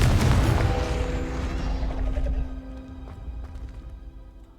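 Confringo fire spell detonating in Hogwarts Legacy: a loud, close boom right at the start with a heavy low rumble that gradually decays, then faint clicks and rattles as it dies away.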